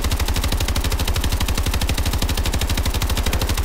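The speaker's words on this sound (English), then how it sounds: "the rate of fire is increased from 600 RPM to 666. This is the standard 600. And here's the 666 RPM." An XMG machine gun in Call of Duty Advanced Warfare fires at about 666 rounds per minute, a loud, steady, unbroken stream of rapid shots running for several seconds with no talking over it.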